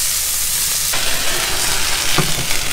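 Ingredients including green onions, star anise and black peppercorns being stirred in a hot pan, a loud steady hiss of sizzling with a few soft knocks as the mix is turned.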